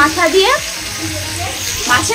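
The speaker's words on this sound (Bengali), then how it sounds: "এখানে মাছের মাথাটা ভাজা হচ্ছে" A fish head fries in a pan with a steady, close sizzle and bubbling, while someone talks loudly over it throughout.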